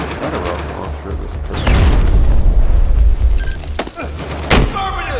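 A rocket launcher explosion in Battlefield 4 gives a loud, deep boom with a long rumbling tail. Sharper blasts and impacts follow it over a steady low battle din.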